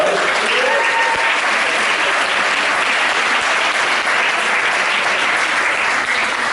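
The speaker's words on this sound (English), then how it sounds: "a round of applause for her, please, guys" Audience applause for a performer at a live show: dense, steady clapping from a crowd, loud and close, holding at an even level throughout without letting up.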